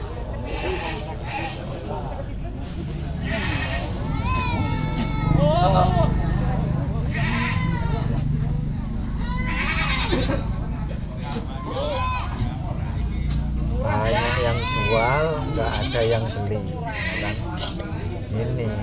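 Goats bleating at a livestock market in Kotabaru, many animals calling loudly and repeatedly over a dense, constant crowd din, with people talking throughout.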